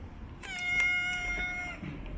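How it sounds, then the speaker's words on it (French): A cat meows once on a street in Himeji, Japan: one drawn-out, tonal, slightly wavering call lasting about a second, fairly close, over faint outdoor background noise with no talking. "Oh, il y a un chat, regardez."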